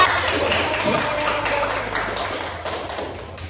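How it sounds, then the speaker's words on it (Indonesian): A classroom of pupils applauds a classmate, a dense patter of many hands clapping at once, close and fairly loud, gradually thinning toward the end. "tepuk tangan untuk temannya"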